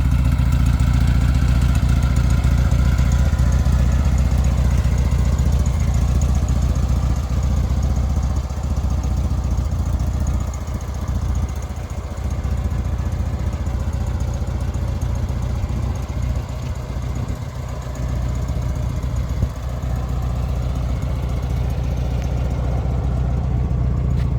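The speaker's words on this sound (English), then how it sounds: "It's got like a Monza exhaust on it." A custom-built 1937 Jaguar SS100 roadster replica on a Beetle chassis idles with a deep, throaty Monza exhaust rumble, steady and close for the whole stretch, with slight dips in revs midway.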